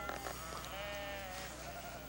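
Sheep on a New Zealand farm bleat in a long, wavering cry over a dense, steady outdoor background, faint and somewhat distant.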